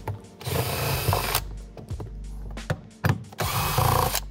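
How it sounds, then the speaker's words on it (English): A 10 mm ratchet clicks rapidly in repeated bursts while bolts are backed out of a plastic storage tub under a Jeep Gladiator seat, with brief pauses and knocks between runs. "we're gonna grab a 10 millimeter ratchet and pull these four bolts out"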